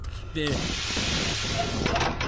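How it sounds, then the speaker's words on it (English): A door slides open in SCP Containment Breach with a hissing mechanical whoosh over game ambience, while a person talks. "Hey, you just opened the door."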